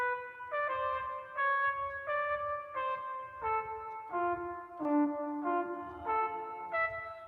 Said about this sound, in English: Oh, there's a flugelhorn.